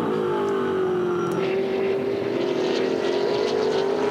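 V8 Supercars roaring around Bathurst during the 2005 Bathurst 1000, a steady loud engine drone with a sustained pitch that slides gradually, no talk over it.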